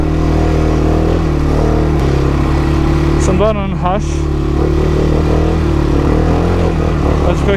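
A Can-Am 1000 R side-by-side off-road vehicle engine drones steadily and revs up close, with a short burst of speech partway through.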